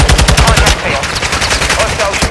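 Rapid automatic gunfire in Call of Duty on Ashika Island, loud close bursts of repeated shots in quick succession, with players talking over it.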